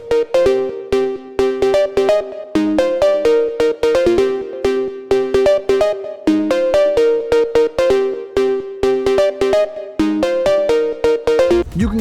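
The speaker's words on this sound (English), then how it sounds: "after all that, we should have something that sounds like this" Synthesized phonk cowbell made in Vital with chorus, delay and a long reverb: loud, rapid metallic tonal hits in a repeating melodic pattern, continuous for about twelve seconds with no talk.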